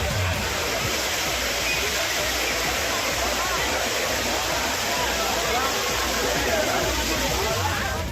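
Heavy waterfall pouring steadily at Courtallam falls in Tamil Nadu, a loud broadband roar that never lets up, with the faint babble of bathers' voices mixed into the rushing water throughout.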